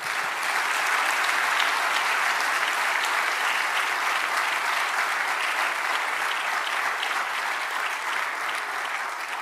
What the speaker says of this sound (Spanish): Dad un aplauso al Señor.